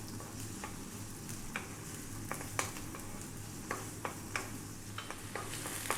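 Garlic and onions fry over above-medium heat in a pan, giving a steady, close sizzle broken by scattered sharp clicks and taps of stirring; no one speaks.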